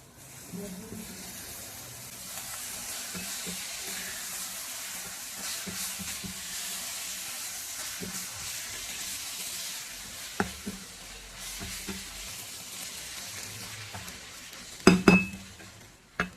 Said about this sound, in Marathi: आता याला हलक्या हाताने आपण मिक्स करू.